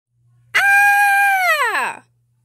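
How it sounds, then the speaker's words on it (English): A single loud, sustained scream rises sharply, holds steady and then slides downward before cutting off, heard alone against near silence. "Why are you screaming?"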